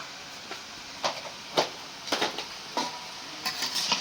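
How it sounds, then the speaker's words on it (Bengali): Mixed vegetables dusted with turmeric and chili powder are turned in a kadai, giving a handful of brief, quiet scraping strokes spaced irregularly over a soft background hiss. "নাড়াচাড়া দিয়ে একটু মিলাই দেই।"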